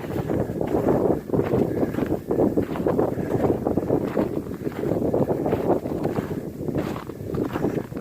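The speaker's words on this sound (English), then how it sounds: "The wind is picking up." Wind gusts across open fields in New York's Hudson Valley after a winter storm, buffeting the microphone with a loud, rumbling, fluctuating roar that surges and eases without pause.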